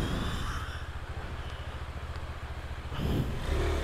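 A small KTM motorcycle engine climbs a hill trail, a steady buzzing drone heard at moderate distance that swells briefly louder near the end, with no voices.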